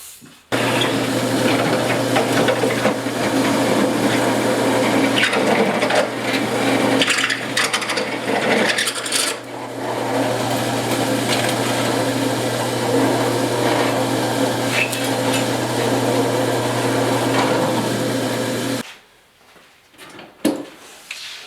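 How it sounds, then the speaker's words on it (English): A step drill bores through metal on a 1956 Mercury pickup's rear fender, running continuously for most of the clip with a steady motor whine and grinding, loud and near, then stops abruptly before a few faint knocks. "So I'm going to use my step drill, drill those out"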